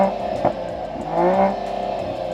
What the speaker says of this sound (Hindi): that sweet exhaust note.